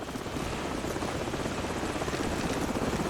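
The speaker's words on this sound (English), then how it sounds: "Hold on, the helicopter's back." A helicopter's rotor thumps steadily and loudly in Call of Duty 4: Modern Warfare, a dense continuous roar with no voices.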